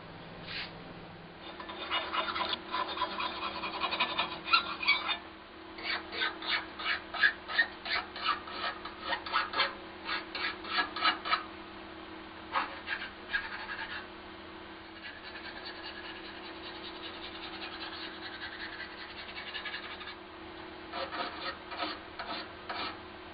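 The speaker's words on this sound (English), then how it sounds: "Just a smooth cut file." A smooth cut file scrapes in quick, rhythmic back-and-forth strokes, close and fairly crisp, coming in bursts separated by short pauses.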